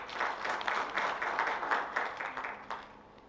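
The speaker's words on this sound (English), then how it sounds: "So big round of applause for that as well." Applause from the audience at a CA Day investment event, a fairly faint crowd of clapping in uneven bursts that carries on for a few seconds and then tapers off.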